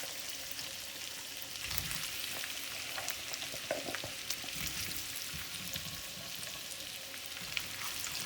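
Onions and potatoes fry together in butter with a steady, hissing sizzle, faint but continuous and close, with occasional light crackles.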